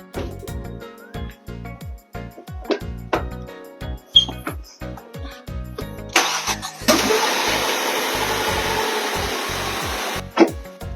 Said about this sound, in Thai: จากนั้นก็ไปสตาร์ทรถ